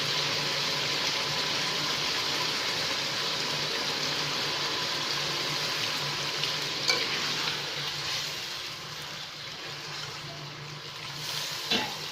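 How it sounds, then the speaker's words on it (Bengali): Mutton stir-fried in a pan after a splash of hot water, a steady broad sizzle and bubbling with occasional stirring knocks, gradually softening toward the end. "এখন আমি এতে একটু গরম জল দিয়ে কষিয়ে সেদ্ধ করে নেব।"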